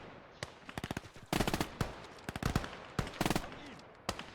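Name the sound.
MG42 machine gun firing in Gates of Hell video game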